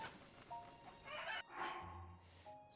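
Chickens cluck in the Zelda: Tears of the Kingdom video game, with short clucks and a brief squawk over a game music and effects background, loud and close.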